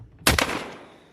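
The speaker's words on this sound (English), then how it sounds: "That's a muted gunshot." A single muted gunshot sound effect cracks sharply and decays over about a second, played alone with no talking.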